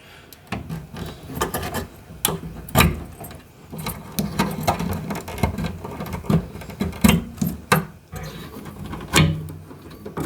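Cables being unplugged from a PinSound pinball board: a run of close rubbing, scraping and clicking handling noises with sharper plastic snaps at irregular intervals, no talking.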